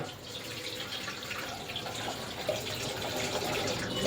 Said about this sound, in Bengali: এখানে কটা বাসন রয়েছে, আমি ধুয়ে নেবো